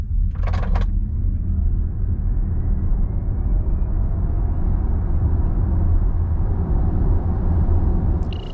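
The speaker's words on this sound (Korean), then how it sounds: "자, 그러면 ID4 발진 가속 성능을 볼까요?" A 2023 Volkswagen ID.4 electric car pulls away from a standstill with a steady low rumble of road and wind noise that swells slightly as speed builds, with a brief clatter at the start.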